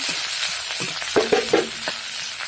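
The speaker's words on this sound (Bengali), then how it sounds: "কড়াইতে নিজের যে তেল পেঁয়াজটাও দিয়ে দিয়েছি ভাজা হচ্ছে" Onion fries in oil in a wok for a spiced fish dish, a steady sizzle underneath a quick cluster of clattering stirs and scrapes near the middle, heard up close without speech.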